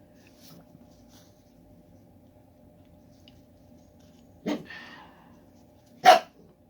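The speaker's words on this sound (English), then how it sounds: "There's really nobody out there that needs to hear you bark" A dog barks indoors in a quiet room, two separate loud single barks a second and a half apart against near silence.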